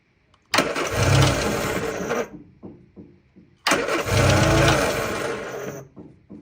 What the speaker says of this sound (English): So it does turn over